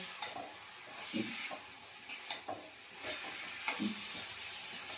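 Small chicken pieces stir-fried in a pan for a thin gravy, with a steady sizzle, steam and hiss broken by several sharp spoon scrapes and clinks spread through the moment. The sounds are close and there is no speech.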